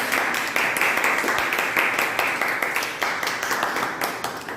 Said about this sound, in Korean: 박수 쳐줄 거예요?